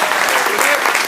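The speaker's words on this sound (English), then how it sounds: "Give me a round of applause," Applause from a karaoke pub audience, a dense continuous wash of hand claps filling the whole moment at close range.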